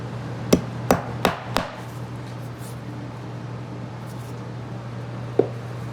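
A nail hammered into a beaver hide on a wooden stretching board: four sharp, evenly spaced knocks in quick succession, then a pause over a low steady hum before one final lighter tap.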